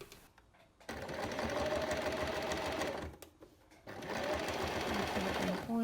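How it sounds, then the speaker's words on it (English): Sewing machine stitching African print cotton fabric for a face mask, a fast steady mechanical whir in two long runs separated by a brief pause, loud and close, with no talk over it. "press my fabric on the sewing machine"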